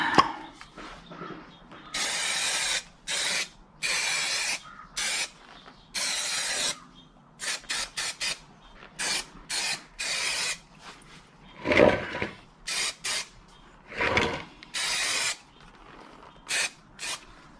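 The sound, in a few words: spraying 3M Super 77 spray adhesive on a box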